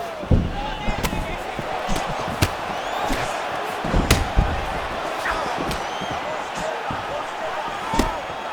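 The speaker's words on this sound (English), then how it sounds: "This crowd is going crazy in here tonight." A video game arena crowd in EA Sports UFC roars continuously during a fight, loud and dense, punctuated by sharp thuds of strikes landing.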